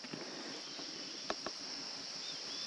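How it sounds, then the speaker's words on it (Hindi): A dense, steady insect drone fills a quiet night jungle in Dzukou Valley, Nagaland, with a few faint clicks and distant chirps and no voices. "बड़ी सेक्सी आवाज़ आ रही है ना जंगल की"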